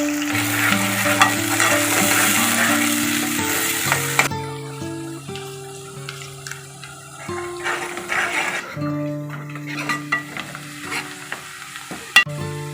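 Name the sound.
onions frying in oil for mutton curry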